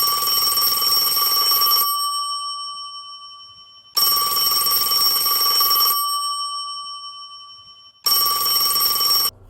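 A telephone rings in three long bell-like bursts, each about two seconds, separated by silent gaps, clear and close.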